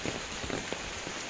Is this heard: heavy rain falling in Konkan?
yes